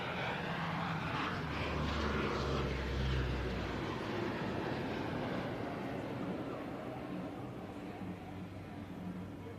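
A C-130 aircraft sweeps past on its final display pass at an airshow in Leszno, Poland, a loud, steady propeller-engine roar that slowly fades as it moves away.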